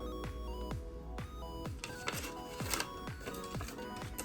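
Scissors cutting out a paper dragon puppet head: a regular series of crisp snips, about two per second, close to the microphone, over quiet background music.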